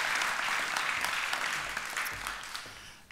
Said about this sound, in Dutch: Goed, hartelijk applaus.